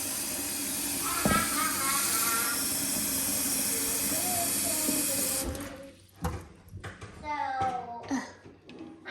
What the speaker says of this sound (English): I'm gonna put hot water in there.